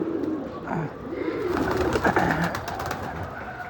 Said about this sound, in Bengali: এই খোপে উঠতি কবুতর এই খোপে উঠতি বাচ্চাগুলি নতুন আর এই খোপে ব্রিডিং কবুতর